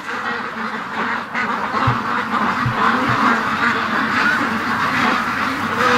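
Agitated ducks in a pen quack repeatedly, a close and loud overlapping chorus over a steady outdoor background.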